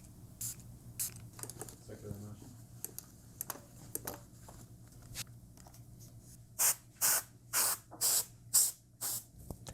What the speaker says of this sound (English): Clean your guitar controller, spray it on like this.